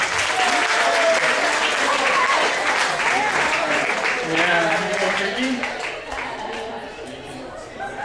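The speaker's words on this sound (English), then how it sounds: "give them a round of applause, guys" A room full of people claps loudly and continuously, with some voices mixed in, before the applause gradually thins and fades toward the end.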